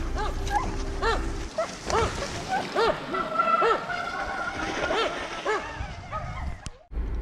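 Sled dogs bark and yip excitedly in short repeated bursts before a bikejoring start, several dogs close by and overlapping, with brief whines between barks and a voice heard faintly.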